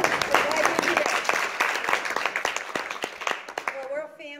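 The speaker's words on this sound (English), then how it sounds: "let's give them a round of applause." Audience applause at a party gathering, a busy wash of clapping with scattered sharp individual claps, mixed with crowd chatter and a voice speaking over the end.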